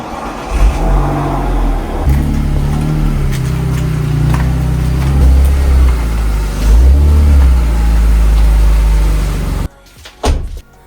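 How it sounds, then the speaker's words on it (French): The engine of a BMW E46 rumbles loudly and close as the car is driven into a garage, its low drone rising and falling with several revs before it cuts off abruptly, leaving a few clunks. "je rentre la voiture. Let's go."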